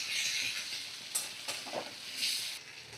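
Papaya with ground poppy seed paste frying in a pan, a soft continuous sizzle broken by a few scraping strokes of a spatula stirring, with no voices.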